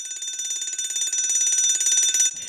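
A fire alarm in a cartoon rings continuously in a rapid, shrill pulsing tone for a couple of seconds, then cuts off abruptly.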